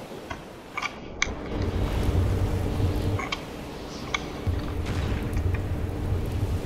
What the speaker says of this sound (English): what happened to the engines? Folks, they sound really sick.